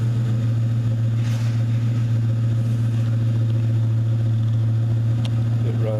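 A Ford car's engine runs at a steady idle, a loud, continuous low hum with an even, unchanging drone close by and no talk over it.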